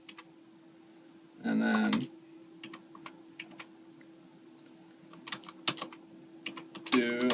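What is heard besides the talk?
typing a matrix on a computer keyboard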